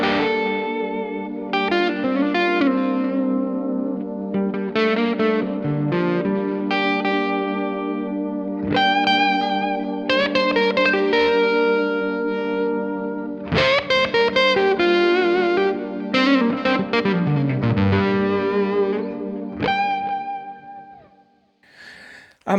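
Electric guitar played through a Red Witch Euphorium fuzz pedal, with chords and single notes ringing out in a loud, open, sustained fuzz tone, phrases separated by brief pauses and no talking.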